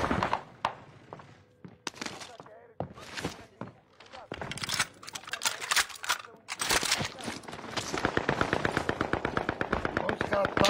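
Rapid, repeated bursts of machine gun fire in the video game Modern Warfare 2, close and loud, with a dense rattling stream in the final seconds while people talk excitedly over the shooting.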